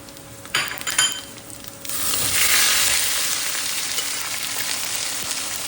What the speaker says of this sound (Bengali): ফোড়নের জন্য এই আখা মশলাগুলো ব্যবহার করব, আর তার সাথে দিয়ে দেবো আমাদেরই গাছের কিছু শুকনো লঙ্কা দিয়ে দেবো ফোড়ন